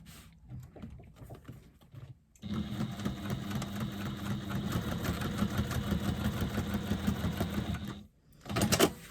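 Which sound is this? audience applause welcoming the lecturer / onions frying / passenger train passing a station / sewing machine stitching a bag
sewing machine stitching a bag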